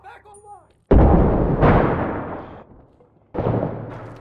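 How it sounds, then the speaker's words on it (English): Grenade in Six Days in Fallujah bursts with a loud, close boom that decays slowly, followed by a second heavy blast, after brief talk between players. "Grenade"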